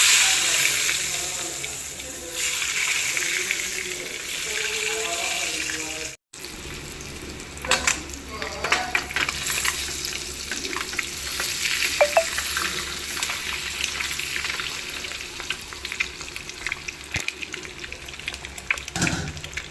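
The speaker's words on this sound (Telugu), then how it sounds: "గుడ్లు ఉడకబెట్టి పక్కన పెట్టాను కదా, ఇవి కొంచెం ఆయిల్లో వేపుకోవాలన్నమాట" Hard-boiled eggs fry in a tablespoon of oil for a chicken egg curry, giving a steady close sizzle with stirring scrapes. After a short break the frying goes on with clinks and bursts of spatter.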